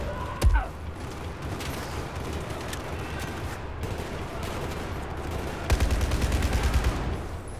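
Enemy gunfire in Battlefield 4 aboard the USS Valkyrie: a sharp single shot early on, then a steady rattle of distant fire, ending in a louder rapid burst near the close.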